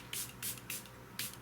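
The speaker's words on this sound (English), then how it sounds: "I spray with this" Makeup setting spray misted onto a face at home, four short hissing pump bursts spaced irregularly, close and crisp with quiet between them.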